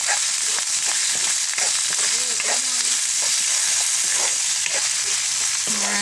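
Chili fry sizzles in hot oil in a pan with a steady, bright hiss, while a utensil stirs it in repeated scraping strokes up close. Brief voiced sounds come through between the strokes.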